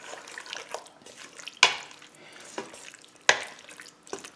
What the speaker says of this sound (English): we're just gonna give that a stir